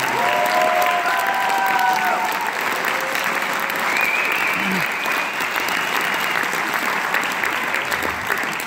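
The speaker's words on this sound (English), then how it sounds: "So can we give a wonderful round of applause to our excellent senior" An audience at a 2019 school fine arts festival applauds the graduating seniors, sustained, full clapping held steady throughout, with faint voices and cheers over it.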